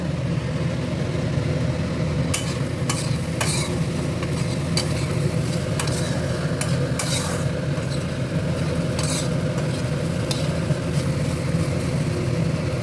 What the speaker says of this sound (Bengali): বাদামের গুঁড়োটা দিয়ে ভালো করে নাড়ো।